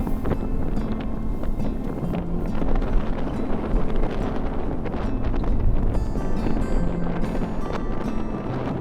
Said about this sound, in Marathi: सकाळपासून वारा एवढा आहे त्याच्यामध्ये लाटा तयार होतात